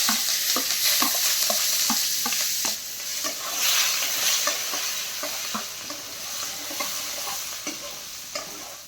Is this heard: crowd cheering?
no